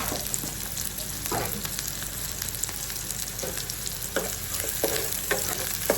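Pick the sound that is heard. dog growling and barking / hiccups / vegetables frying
vegetables frying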